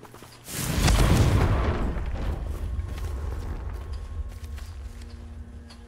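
The Confringo fire spell in Hogwarts Legacy bursts into a deep, loud explosion that swells fast and then rumbles down into a long fading roar, with no talking over it.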